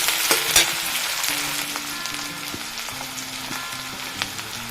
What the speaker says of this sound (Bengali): কুচনো পেঁয়াজ একটু ভালো করে ভেজে নেবে